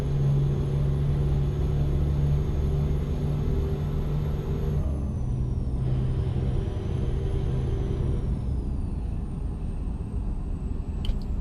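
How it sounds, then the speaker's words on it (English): A heavy truck engine drones steadily in American Truck Simulator, a constant low rumble with a faint high whine, and the pitch shifts midway as the engine brake comes in, with no speech. "I need more Jake brake for that engine."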